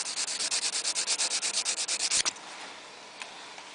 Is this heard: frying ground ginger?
no